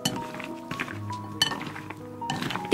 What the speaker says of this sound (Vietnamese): Trộn đều tất cả lên nè.